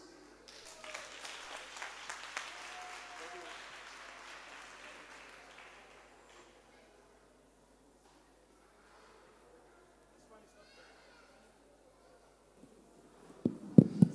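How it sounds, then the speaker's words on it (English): At a Workers Day community meeting, an audience gives the chief a hand. Faint, distant applause rises, then fades within a few seconds into near silence, followed by a brief louder noise at the very end. "Give the chief another hand of applause, please."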